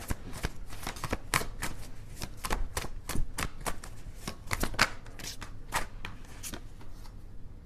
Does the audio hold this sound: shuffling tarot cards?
yes